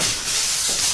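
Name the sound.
butter sizzling and spitting in a frying pan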